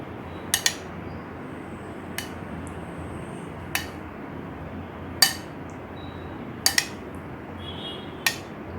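Yogurt is spooned over fasting dahi vadas in a bowl, with a handful of light, sharp metal-on-dish clinks spaced a second or two apart over a faint quiet background.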